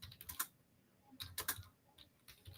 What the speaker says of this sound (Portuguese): não estou conseguindo ver o que eu estou digitando